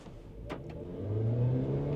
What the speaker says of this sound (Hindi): तो हम इसकी एक्सेलरेशन चेक करते हैं